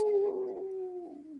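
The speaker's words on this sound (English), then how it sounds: "So you may hear some barking." A single dog howls close by, one sustained wavering note that slowly falls in pitch, heard indoors with no talking.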